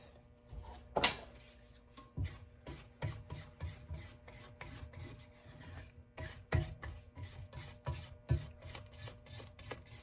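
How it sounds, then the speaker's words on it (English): A spatula scrapes around the sides of a mixing bowl of homemade yellow cake batter, giving a steady series of close rubbing strokes in a quick, even rhythm with no voices. "Scrape down the sides."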